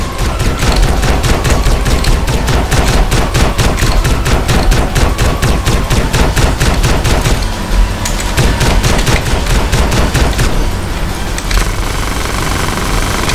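Video game gunfire from GTA San Andreas rattles in loud, rapid, evenly spaced bursts of shots that continue almost without pause from start to finish.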